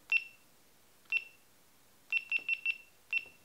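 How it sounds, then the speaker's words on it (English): GoPro action camera counting down a three-second photo timer: a few clear, evenly spaced electronic beeps that quicken into a rapid run of four, then one final beep, close and alone in a quiet setting. "You'll hear it beep, and then it'll take a photo"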